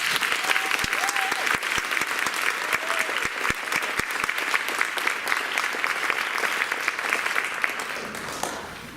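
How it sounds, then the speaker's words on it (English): A crowd of family and friends applauds at a fifth grade promotion ceremony, steady dense clapping with a few sharp nearby claps and brief cheers or voices mixed in, tapering slightly at the end. "Let's give one more round of applause for Rochelle, Desiree, Ellie, Arlise, Sophia"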